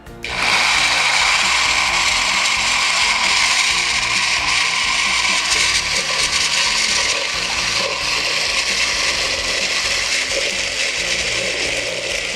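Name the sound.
blender blending batter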